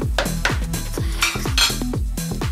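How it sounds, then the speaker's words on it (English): Batter for millet pancakes with cardamom powder being whisked in a bowl, a steady series of quick, close clinking strokes under soft background music. "Whisk that together."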